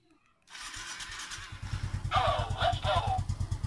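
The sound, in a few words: Suzuki Smash motorcycle starting, talking alarm installed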